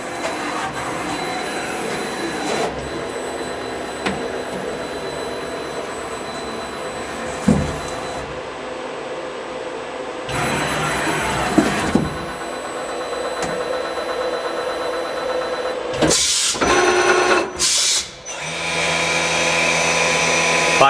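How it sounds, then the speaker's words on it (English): Fanuc Robodrill T14iA CNC machine looping through a program, a steady loud whirring hum broken by clunks, whooshes and spindle bursts as tools change, close and continuous with no talking. "We have a machine looping through a program right now. Doing a few tool changes."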